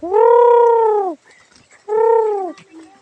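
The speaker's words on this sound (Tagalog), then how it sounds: "Kumakain na sila ng pagkain ang aking mga kalapati." Two deep, resonant pigeon coos, close and loud, the first longer than the second, with a short quiet gap between them.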